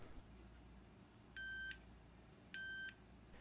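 Two short electronic beeps from a standard multimeter testing a reed switch on an irrigation water meter project, each lasting about a third of a second, a second apart, fairly loud over quiet background.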